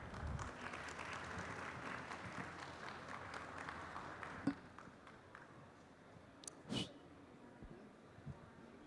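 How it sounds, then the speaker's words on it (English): An audience of audio engineers applauds the panelists after a recording techniques panel session: faint, steady clapping for about four seconds, then it thins out into quiet room noise with a few isolated knocks. "Please give a big round of applause."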